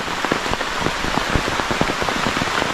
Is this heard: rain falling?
yes